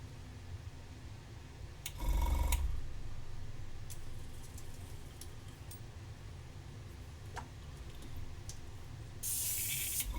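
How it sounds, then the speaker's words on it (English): Airbrush spraying paint onto an orc miniature, heard as a loud hissing burst of about half a second, a few faint short spritzes after it, and a final bright hiss near the end over steady low background noise. "Little bit of airbrush in my life."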